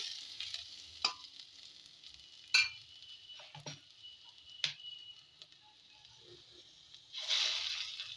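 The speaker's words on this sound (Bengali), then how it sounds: "পেঁয়াজটাও প্রায় ভাজা ভাজা হয়ে গেছে" Onion nearly done frying in a pan, with soft intermittent sizzle and a few sharp clicks of stirring, faint and close, with a louder hiss burst near the end.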